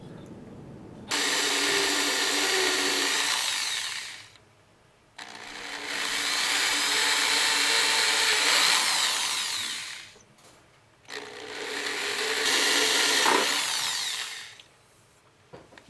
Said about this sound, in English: As I'm drilling, you can see I'm really close to these.